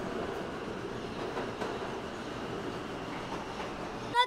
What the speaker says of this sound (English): Brooklyn-bound 2 express train.